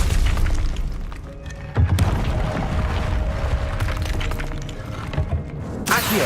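Confringo blasting spell explosions in the Hogwarts Legacy video game: heavy booming blasts with crashing, shattering debris, one thudding impact after another over a rumbling low roar, loud and close.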